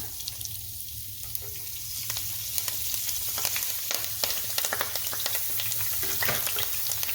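Curry leaves dropped into hot oil for a spicy fish fry, a steady close crackling sizzle with sharp pops scattered throughout, growing a little busier after the first couple of seconds.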